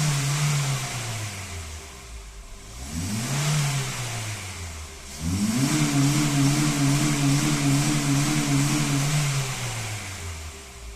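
A 2012 Honda City engine warming up, a steady mid-range drone with pitch rising and falling through a couple of revs before settling into a higher, even hum, close and continuous with no talking.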